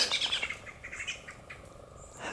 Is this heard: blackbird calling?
yes